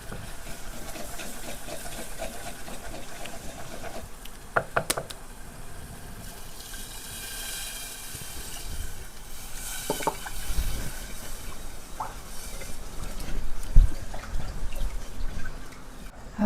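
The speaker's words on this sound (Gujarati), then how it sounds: "હવે આ છાશ નાખી દઉં." Buttermilk is poured into simmering moringa kadhi on a farm stove, followed by stirring, with soft liquid splashes, a few sharp clinks of a ladle and a low sizzle underneath.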